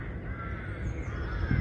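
A crow caws against a low, rumbling outdoor background, the calls harsh and moderately distant.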